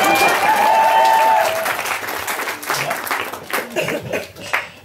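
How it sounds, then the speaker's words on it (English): Wedding guests applaud during a groom's reception speech, a loud burst of clapping with some laughter that gradually thins and fades over several seconds. "You can clap at that bit."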